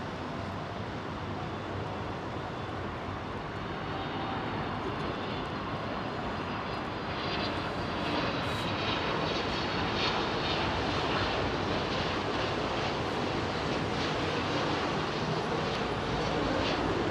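Boeing 777 jet engines spool up for takeoff at foggy Heathrow, a loud, sustained roar that swells and grows harsher over the clip, heard from a distance with no voices.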